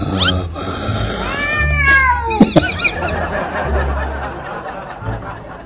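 A timid house cat meows when startled by a changed voice, giving several rising and falling close meows over steady room noise, with a person talking and laughing in the background.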